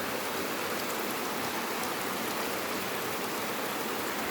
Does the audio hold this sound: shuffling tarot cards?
no